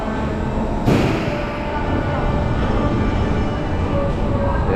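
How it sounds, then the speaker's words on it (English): A roller coaster train pulls out of the Choco Chip Creek station at Energylandia's Sweet Valley area, a steady low rumble of wheels and machinery with a single thump near the start, fairly loud and continuous throughout. "Train's about to depart."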